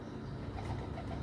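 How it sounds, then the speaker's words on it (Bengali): A domestic pigeon coos softly in a low, rounded murmur, fairly close and steady, with no talking over it. "এটা হলো সেকেন্ড পায়রাটা বন্ধুরা।"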